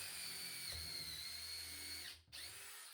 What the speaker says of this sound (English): I used a drill bit to pre-drill holes through the flange extender and old flange into the